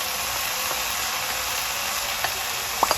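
Shrimp sizzling in a hot wok during a Thai-style stir fry with vegetables, a steady broadband hiss throughout with a few sharp clicks near the end, no talking.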